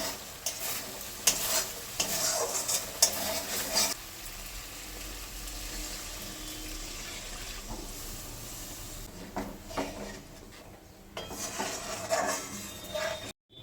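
Bitter gourd and eggplant sautéing in a pan with salt being stirred in: close, scraping stirs and bursts of sizzle come and go, with quieter stretches in between.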